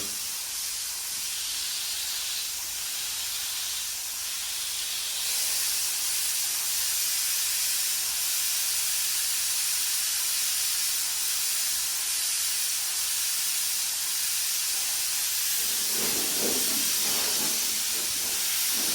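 A paint spray gun sprays with a steady, loud, continuous hiss, with a brief burst of extra rattling noise near the end.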